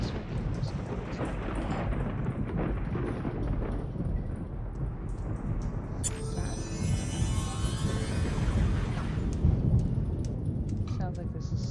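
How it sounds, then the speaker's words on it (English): Thunderstorm raging outside in the game Mystery Case Files: Ravenhearst, with continuous rain and rolling thunder; a sharper rumbling crash builds midway and lingers. "sounds like there's a storm raging out there"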